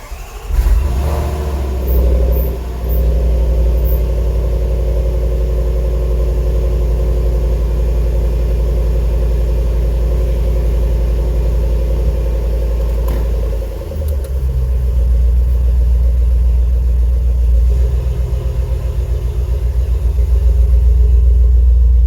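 A supercharged car fitted with a cold-air intake kit, check engine light on after its mass air sensors were disconnected, drives with a steady, loud engine rumble that swells briefly under acceleration, no talking.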